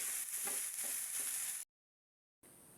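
Bitter gourd leaves frying crisp in a pan, a bright hissing sizzle with soft stirring scrapes, close and steady, cutting to silence before the sizzle briefly returns.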